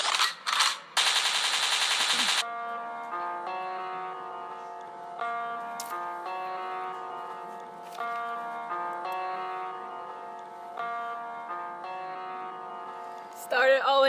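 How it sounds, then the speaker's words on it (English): A gunshot sound effect in a Renaissance-themed music video: harsh bursts of rapid-fire cracks at the start, then a string of bright, sustained electronic tones, ending with another short noisy burst. "a gunshot means forward"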